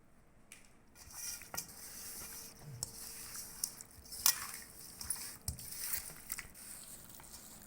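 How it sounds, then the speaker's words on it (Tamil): Fish coated in masala with lemon stirred in a pan on a dosa griddle, with quiet scraping, clinks and light taps at irregular intervals over a faint background sizzle. "நல்லபடியாக கலக்கியாச்சு."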